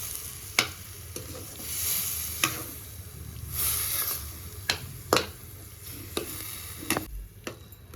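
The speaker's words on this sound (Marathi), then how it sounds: "गॅस कमीच करायचा. परतून घ्यायचं. व्यवस्थित दमानं हलवायचं." Pumpkin pieces being sautéed in a pan over low heat for a kheer, a soft continuous sizzle with intermittent scraping knocks of a spoon stirring against the pan, close by.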